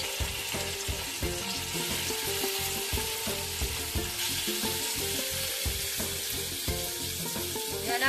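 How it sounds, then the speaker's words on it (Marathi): Fish fillets fry in hot oil over a medium gas flame, giving a steady, close sizzle with frequent crackles and pops and occasional stirring or scraping clicks running throughout. "आणि आता आपण टाकणार आहोत याच्यामध्ये आपली मच्छी"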